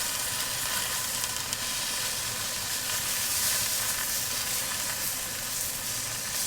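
Leeks with charred cut sides braising and sizzling in a pan for a Thanksgiving meal, a dense, continuous hiss of frying and steam that holds steady and close the whole time, with nobody speaking.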